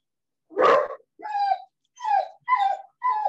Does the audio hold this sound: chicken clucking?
no